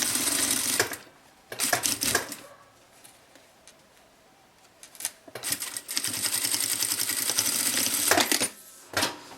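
Sewing machine stitching the base and top gusset of a manicure bag together, running in several loud bursts of rapid mechanical chatter separated by quiet pauses, with a final short run at the end.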